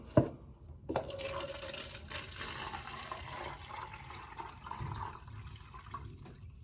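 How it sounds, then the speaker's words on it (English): Water poured into containers holding Super Thrive solution for begonia cuttings, a short sharp clink at the start and then a steady, soft splashing trickle that runs on for several seconds, fairly quiet and close. "I'm gonna fill these up with some Super Thrive water as well."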